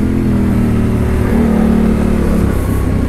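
A Yamaha Tenere 700 motorcycle fitted with an aftermarket exhaust and a reflashed ECU revs loudly up close, giving a deep, continuous engine roar that rises and falls slightly with the throttle. No one speaks.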